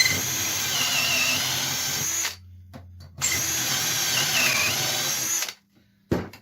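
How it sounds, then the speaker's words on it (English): A power drill boring dowel holes into the end of a wooden board through a MilesCraft JointPro dowel jig, two loud steady runs of about two seconds each separated by a short pause, then a brief final burst. "so now I got holes drilled on this end"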